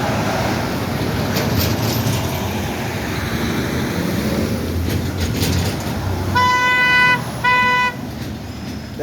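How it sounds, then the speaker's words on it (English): A car horn honks in city traffic near a bike lane, two clear beeps of roughly a second each, fairly close, rising over the steady rumble of passing vehicles. "Now he's beeping the horn because he can't go"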